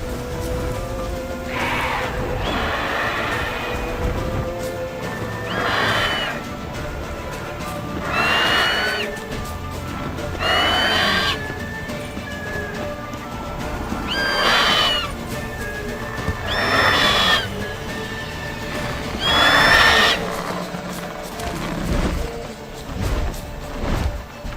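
A horse in The Witcher 3 video game whinnies repeatedly, with about six loud neighs spread evenly through a steady patter of rain and background game noise.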